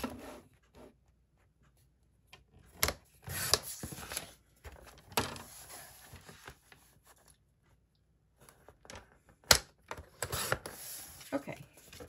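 Scissors cutting a paper Christmas design for a Kleenex box cover, scattered close snips and paper rustles with quiet pauses between bursts of handling.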